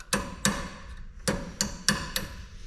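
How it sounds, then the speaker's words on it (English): A hammer strikes U-joint caps on a Jeep axle shaft held in a vise, giving six sharp metallic blows in two uneven groups, loud and close with no talking. "That's why I hit them in to loosen up these little clips."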